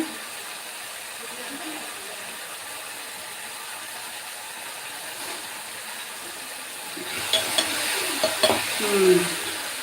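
Pan sautéing for a potato kurma, faint and quiet at first, then a few louder scraping and stirring strokes with a light sizzle toward the end.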